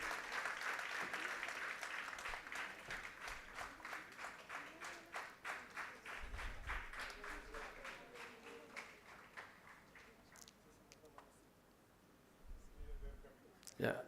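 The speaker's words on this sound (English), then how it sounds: "a big clap to them" Conference attendees at a plant physiology and abiotic stress meeting applaud, giving a burst of clapping that fades into scattered, slower claps and trails off, with a few faint low thumps and brief murmurs afterward.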